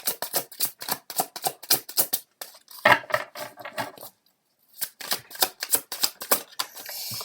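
Tarot cards being drawn and shuffled for a reading: rapid papery flicks and snaps in quick bursts, a brief pause, then more riffling, close up with no talking.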